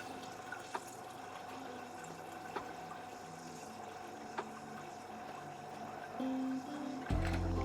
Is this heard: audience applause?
no